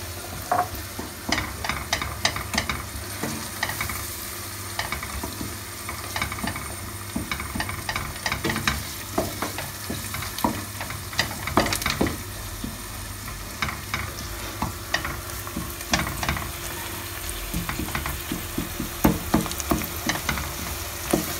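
Onions sautéing with pepper paste in a pan for a Turkish herb dish, a continuous close sizzle with frequent clicks and scrapes of stirring throughout, no voices.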